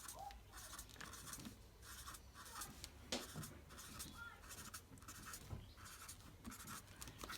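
A blue pen draws the number 8 on paper, giving soft, faint scratchy strokes in short repeated bursts against a quiet room.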